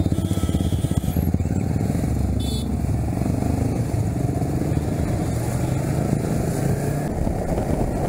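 A motorcycle on a ride out to a lake gives a steady, close engine drone with a continuous throb, lasting the whole stretch with no talk.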